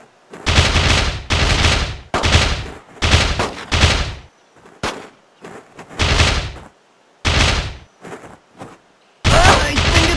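Machine gun fire in a PSP shooter game, set among German-speaking soldiers: loud, close bursts of rapid automatic shots that come in repeated volleys with short pauses between them, and no speech over the firing.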